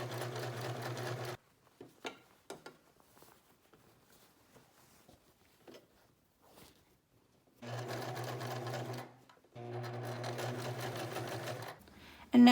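A sewing machine stitching back and forth over the ends of an elastic casing on fabric for a ruched crop top, running in three steady bursts with quiet rustling and handling between them.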